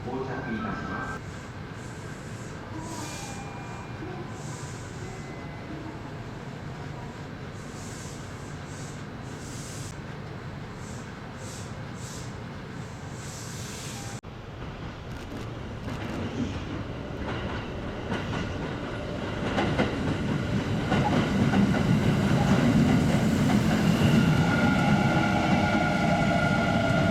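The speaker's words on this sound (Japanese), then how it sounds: "4番乗り場に名古屋行き普通電車が到着いたします。" A local train bound for Nagoya rolls into a Japanese station with a steady rumble that swells louder over time, wheels clattering on the rails, with a faint announcement tone in the background.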